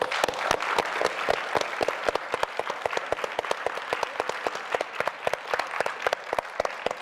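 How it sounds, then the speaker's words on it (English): Steady, dense applause from an audience at a symphony event fills the whole stretch, with rapid claps and a few sharper close ones standing out. "I'd like to give a big round of applause for those of you who work so hard to make New West Symphony possible"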